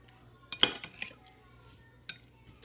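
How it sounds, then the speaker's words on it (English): Spoon clinking against a bowl while sugar is stirred into a salad dressing for a BLT salad, a couple of sharp clinks and brief scraping, quiet and close. "give that a stir"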